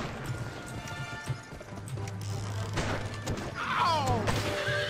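Galloping horse in the video game GUN, a rapid clip-clop of hooves running steadily under game music and ambient effects, with someone talking over it.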